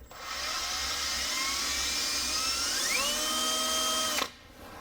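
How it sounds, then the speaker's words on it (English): A power drill whines steadily and loudly for about four seconds, its pitch rising partway through as it bores a small hole into metal for a sheared ball joint pinch bolt, then cuts off abruptly. "drill a little hole here. Now my drill bit is walking."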